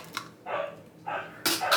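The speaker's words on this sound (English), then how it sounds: "I'm sure you'll hear the dog in the background." A dog barks a few times in the background of an indoor spider rehousing, short muffled woofs spaced apart, moderately loud, ending in a sharper, brighter bark.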